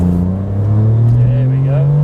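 A Ferrari 575M Maranello engine pulling through a quick F1 gearbox gear change, a loud close steady drone whose pitch climbs, with a brief dip at the shift, heard from inside the car.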